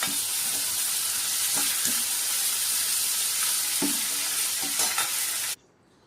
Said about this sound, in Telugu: గరం మసాలా వేసి బాగా ఫ్రై చేయాలి